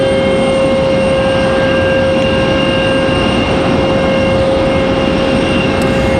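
A JetBlue jet at Raleigh-Durham airport gives off a steady, loud engine whine with a constant high tone over broadband rumble, holding even throughout.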